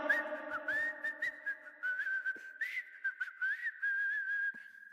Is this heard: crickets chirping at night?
no